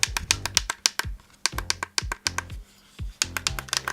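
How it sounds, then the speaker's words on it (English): Rapid, close, crisp clicks as buttons are pressed on a Neewer NW759 7-inch field monitor, arriving in quick irregular bursts with brief gaps between them. "Nice, satisfying clicks."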